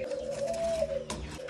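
A pigeon coos in a low, steady, drawn-out tone, close and clear, with faint room noise around it, indoors near a fish aquarium.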